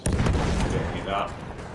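An explosive detonates in Battlefield 1: one sharp, close boom at the start, followed by a rumbling decay and scattered debris-like crackle, with no talking.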